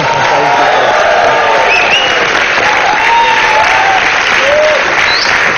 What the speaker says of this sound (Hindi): इस बात के लिए पहले जोरदार तालियां